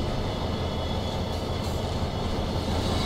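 A high-speed train passes in the opposite direction in Train Sim World 4 on the Birmingham Cross City line, heard as a steady, loud rolling rumble of wheels and wagons with no talk.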